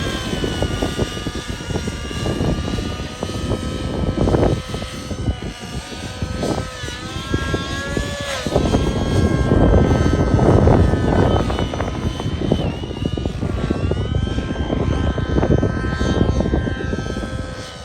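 A Tron 700 RC helicopter running a nitro (Nitron 90) engine flies overhead, its high-pitched engine whine and rotor buzz loud and continuous, rising and falling in pitch as the head speed changes through manoeuvres.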